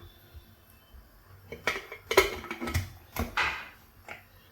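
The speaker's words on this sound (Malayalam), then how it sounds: "ഇനി കുക്കർ അടച്ചു വയ്ക്കാം" Several metallic clanks and a heavy clunk of a pressure cooker lid being set and shut, with kitchen clatter in between and no talking.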